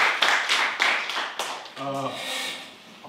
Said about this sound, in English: Give yourselves a round of applause, definitely.